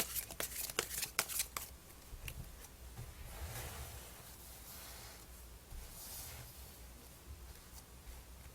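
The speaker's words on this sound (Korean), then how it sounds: "자, 그러면 추가 카드 한번 뽑아볼게요" Tarot cards shuffled and drawn: a quick flurry of crisp riffling snaps at the start, then soft, faint sliding and rustling of cards over a quiet background.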